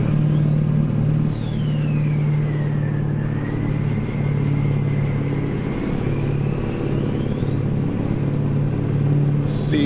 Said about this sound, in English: Probably not good for the engine hitting that many RPMs.